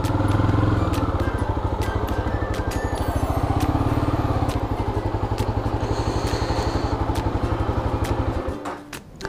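A motorcycle idling nearby with a steady, rapid engine throb as it is parked at a closed riverside bathing spot, then the engine cuts off near the end, leaving brief clatter.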